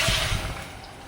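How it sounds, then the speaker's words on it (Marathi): Water pours from a medium-sized metal mug onto washed dal and rice for khichdi, a brief splashing gush that is loudest at the start and tapers off within about a second, with no speech. "पूर्ण तांब्यावर पाणी घातलेलं आहे"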